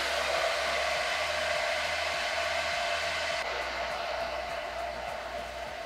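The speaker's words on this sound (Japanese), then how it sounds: "こういう風に掴んでもらってドライヤーの風を当てていく。" A handheld hair dryer blows a steady, even roar of air onto hair at the roots to add volume, close and constant, its tone shifting slightly partway through as the airflow is moved.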